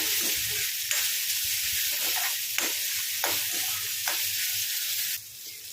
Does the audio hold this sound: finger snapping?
no